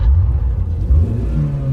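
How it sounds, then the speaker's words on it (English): A car engine rumbles low and loud at close range, a deep continuous drone with slight rises like gentle revving, heard alone. "And fire up the engine."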